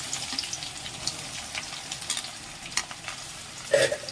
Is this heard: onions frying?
yes